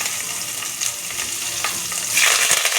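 Mustard seeds, asafoetida, ginger and crushed garlic crackle in hot oil, a dense, close sizzle with a few louder spits near the end.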